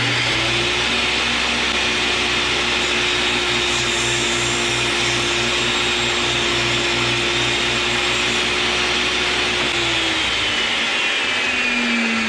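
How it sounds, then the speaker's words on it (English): A table saw runs steadily and loudly while cutting stock held tight against the fence, a sustained whine with a low motor hum under it that holds for about ten seconds, then drops away. "And basically run it through the table saw."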